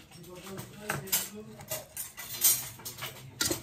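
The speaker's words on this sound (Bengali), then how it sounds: "এইভাবে পুরো ভাতটা মিশিয়ে নিচ্ছি" Fried rice is tossed and mixed in a pan with ghee and butter, a spatula scraping and clinking against the metal in uneven strokes while a voice talks over it.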